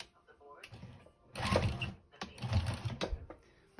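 A sewing machine stitches a denim quilt in two short bursts of close mechanical whirring and clatter, separated by a brief pause.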